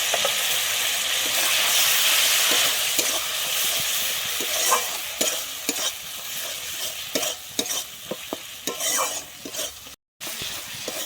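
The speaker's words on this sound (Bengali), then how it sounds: "আমার বেসনটা কিন্তু খুব ভালোভাবে ভাজা হয়ে গেছে আমি এরপরে একটু জল দিয়ে দিচ্ছি" Gram flour frying in a pan with spices hisses loudly as a little water is poured in from a bowl, followed by continuous sizzling and repeated scraping strokes of stirring.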